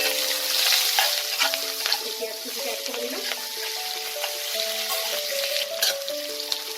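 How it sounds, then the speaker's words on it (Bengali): Two chopped medium onions sizzle in hot tempered oil in a pan for a Bengali bhetki fish-bone chorchori, a busy crackling fry under repeated scraping, clinking stirs, close and steady. "পেঁয়াজটাকে হালকা ব্রাউন করে আমার ভেজে নিতে হবে।"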